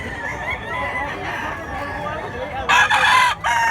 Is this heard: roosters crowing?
yes